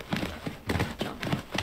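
Horse hooves in a horse-riding video game, a rhythmic clip-clop of galloping strides repeating in quick, even beats at close range.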